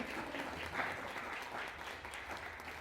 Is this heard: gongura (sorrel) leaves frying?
no